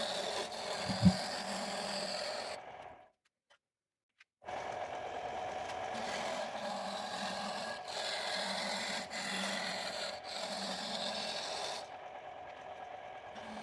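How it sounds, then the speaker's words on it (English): Woodturning lathe shaping a garden tool handle with a small gouge, a continuous rasping, scraping hum that cuts out for about two seconds before resuming steadily. "I roughed it out using a small gouge until I got down to a straight cylinder."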